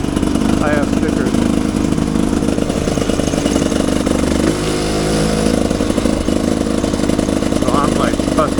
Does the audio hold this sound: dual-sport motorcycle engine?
yes